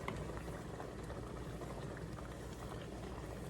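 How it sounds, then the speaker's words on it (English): Beans simmering in a covered pot of tomato-sauce broth on a stove, with a soft continuous bubbling and low rumble, faint and steady throughout. "Luego la vas a poner otra vez en la estufa y la vas a tapar para que se continúen cocinando."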